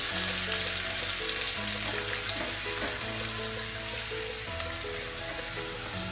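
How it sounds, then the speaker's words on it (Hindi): Food frying in hot oil until crispy for a saag paneer dish, a loud, dense and steady sizzle that continues close up throughout with no pauses. "तेल हमारा गर्म हो चुका है, इसे हम फ्राई कर लेंगे अच्छे से।"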